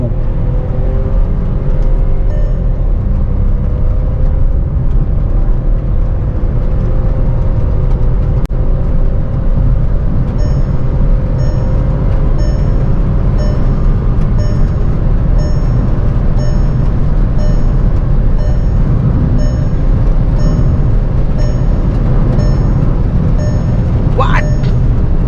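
A brand new Volkswagen Virtus GT Line, in manual sport mode, accelerates at full throttle, its engine a steady loud drone with rising pitch sweeps and constant road and wind roar filling the cabin.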